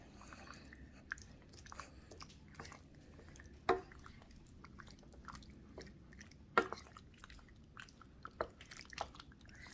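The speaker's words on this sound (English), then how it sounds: "Okay, so now I'm going to add the pasta back in with my sauce. Stir it all up so it's nice and coated." Rigatoni being stirred into a sausage and mushroom sauce, giving soft, wet squishing and sticky dabs in a quiet, irregular rhythm, with a couple of sharper clicks of the spoon against the pot.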